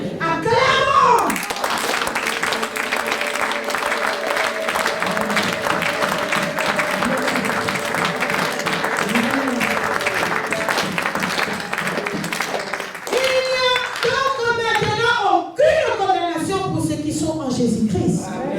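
A church congregation at a thanksgiving service applauding in a long, sustained burst of many hands clapping, loud and dense, with some voices and cheering near the end.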